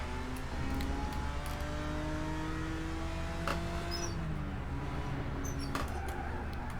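A damaged race car in a sim racing game at Road America drones steadily, its engine tone rising and falling through gears with a faint, continuous mid-pitched hum and no voices.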